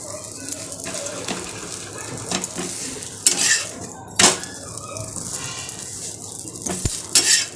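A paratha cooks in a pan at home in the morning, with a steady soft sizzle under clinking utensils and sharp scrapes and taps of metal on the pan, close and intermittent.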